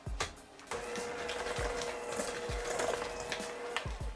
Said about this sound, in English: So right now I'm creaming the sugar and Earth Balance butter together.